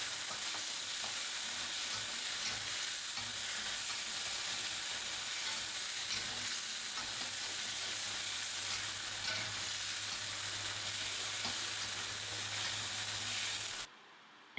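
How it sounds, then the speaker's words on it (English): Chili paste with ginger and garlic frying in oil for Thai shrimp noodles, a steady close sizzle with faint stirring and tossing throughout, with no talk, cutting off abruptly at the end. "we can add our teaspoon of chili paste and toss through briefly"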